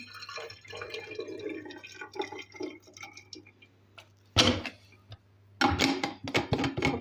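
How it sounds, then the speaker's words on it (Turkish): Boiled water poured into a Newlife digital smart thermos cup, a quiet trickling pour followed by a few sharper clicks and handling knocks near the end. "Şimdi kaynamış suyunu suyu içine döküyorum."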